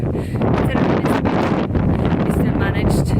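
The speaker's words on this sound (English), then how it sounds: "Hopefully you can hear me over the wind. It is a bit windy" Strong wind buffets a microphone outdoors, a loud, continuous low rumble with gusty surges that persists for the whole stretch.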